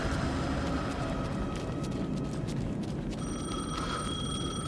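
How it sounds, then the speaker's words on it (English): A telephone rings inside the Alan Wake II video game, a bright trilling ring over a dense, rumbling ambient drone that holds steady throughout, with no one speaking. "The phone again."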